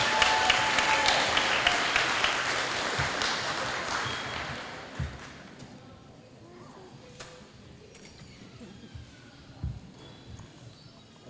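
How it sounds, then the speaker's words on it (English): An audience at a school STEAM fair claps, loud dense applause at first that thins out and fades to scattered claps and room noise. "So let's clap it up for them."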